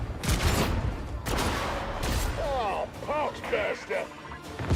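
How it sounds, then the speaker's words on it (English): Bolt gun fire in an online shooter game, a few sharp cracking shots and crashing impacts up close, followed by quieter chirping effects. "I can really hear somebody else's bolt gun over there"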